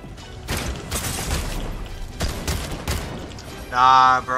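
Gunfire in the video game Fortnite during a ranked match: a rapid string of close, loud shots in quick bursts, then a brief tonal electronic game sound near the end.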